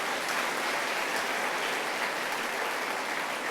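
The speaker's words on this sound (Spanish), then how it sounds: "denle un fuerte aplauso a esta iglesia" Steady, even applause from a church congregation fills the moment, a soft, continuous patter of many hands clapping without a break.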